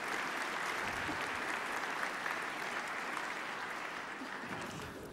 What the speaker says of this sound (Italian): Allora io vi invito a fare un applauso